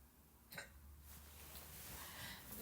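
A single faint, close hiccup sounds early on, followed by quiet breathing and low room noise.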